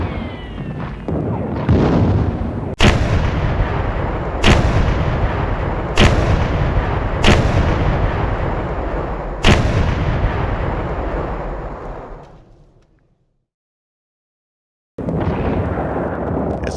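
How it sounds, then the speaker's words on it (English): Cannons fire at a Camden battle reenactment in a series of loud booms, about five sharp blasts over a continuous rumbling roar. The din fades out to silence, then the rumble resumes. "Cannons began firing from both armies, flooding the field with thick clouds of smoke."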